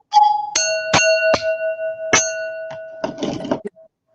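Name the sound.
doorbell ding-dong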